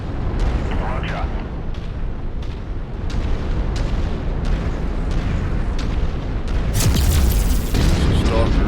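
Missiles burst in a mech combat video game, a dense, continuous low rumble of explosions and booms with repeated sharp impacts, building to a louder blast near the end while a voice talks over it.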